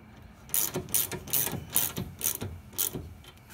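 A ratchet wrench turns the rear strut nut on an ND Miata clockwise, clicking in about six short, regular bursts of close, crisp pawl clicks with no speech.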